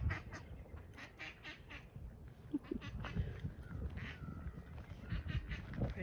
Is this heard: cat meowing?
no